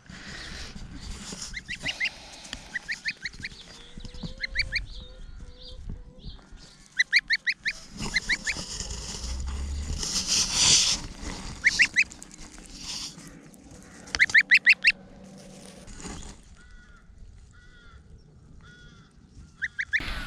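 A baby goose kept indoors gives repeated high, shrill honks in short clustered bursts with quiet gaps between, close by and clear over a faint room background.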